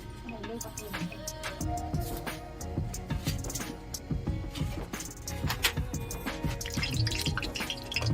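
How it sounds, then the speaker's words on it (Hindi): Cumin seeds crackle and pop in hot oil in a kadai, a quiet, steady scatter of small sharp ticks and sputters. "तेल गर्म होने के बाद में इसमें जीरा डालेंगे।"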